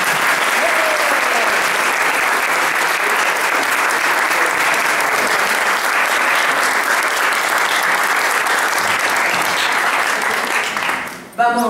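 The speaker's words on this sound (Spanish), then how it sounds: "A todas las colectividades, un fuerte aplauso." Audience at a press conference for the Rosario national festival of foreign communities gives a loud, sustained round of applause for the communities, dense and even clapping that fades out abruptly at the end.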